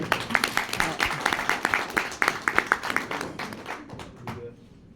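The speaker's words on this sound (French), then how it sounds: "On peut l'applaudir." An audience applauding a speaker at an event in Luxembourg: several seconds of steady, fairly loud clapping from a modest crowd, rhythmic and dense, thinning and fading out toward the end.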